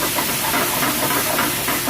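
Cabbage and spinach cook in a pan with a half cup of liquid added, producing a steady, loud steam hiss with faint bubbling pulses, continuous and close.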